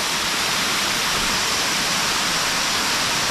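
Katoomba Falls in Blue Mountains National Park pours with a loud, dense, unbroken hiss of falling water, heard up close with no voices.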